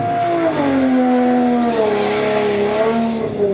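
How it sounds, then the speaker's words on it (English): Pete's Nissan races a Toyota Supra at a street racing weekend: loud engines scream with rising and falling revs, tyres squealing as the cars drive hard, close and continuous. "This is a race, Pete versus a Supra."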